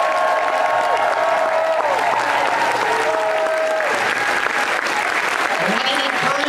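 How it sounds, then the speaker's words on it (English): A large audience at a Winona LaDuke talk in Eugene gives sustained, dense applause that fills the whole stretch at steady loudness, with some whistles and cheers mixed in. "One more massive round of applause for Winona LaDuke."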